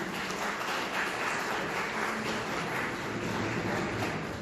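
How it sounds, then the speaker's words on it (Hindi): Steady applause fills the hall at a railway week award ceremony, a dense and even wash of many hands clapping without a break, heard from some distance. "उपाध्याय सर की जोरदार तालियां।"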